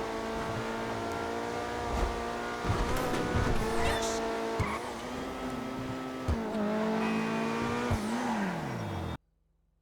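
Coquette D5 sports car in GTA Online, its engine revving and shifting up and down with tire squeal, heard close and fairly loud throughout before a sudden drop near the end.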